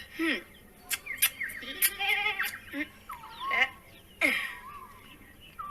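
A tethered goat that had been chewing spinach in a garden bleats several times in short wavering calls among outdoor sounds and bird-like chirps. It is close and moderately loud, with no talk over it.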